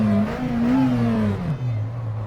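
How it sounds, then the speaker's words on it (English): McLaren Senna GTR V8 race engine in the racing sim rFactor 2, a brief close pit-lane rev that swells, wavers and settles back toward a deep idle, no talking. "You hear that beautiful V8 sound."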